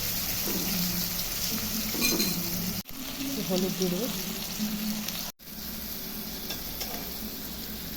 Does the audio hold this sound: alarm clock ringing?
no